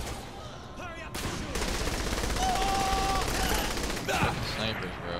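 Sustained automatic gunfire in Saints Row 3, dense and continuous with overlapping shots and some sharper cracks, heard under voices talking.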